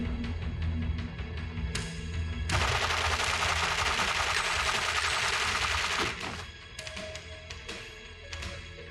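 Sustained bursts of rapid gunfire from a TV drama soundtrack, a loud, dense volley lasting several seconds, bracketed by shorter sharp shots and scene sounds before and after.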